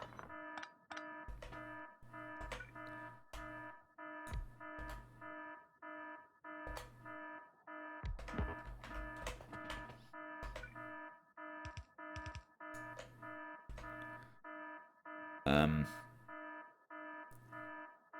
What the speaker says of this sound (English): I'm not actually sure what alarm is going off now